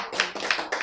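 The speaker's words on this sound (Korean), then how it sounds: "박수." A few sharp claps in quick succession during a church sermon, roughly three distinct bursts close by within under a second.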